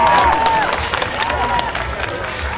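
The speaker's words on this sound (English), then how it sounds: "Come on, give her a good cheer." Spectators at an outdoor Chase Me Charlie pony jumping event at Poynton Show cheer and clap for a young rider, a broad crowd roar with whoops, while a voice speaks over the din.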